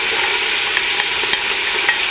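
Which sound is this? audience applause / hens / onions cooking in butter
onions cooking in butter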